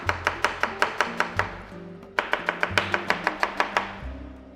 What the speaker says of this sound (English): See that nice julienne onion?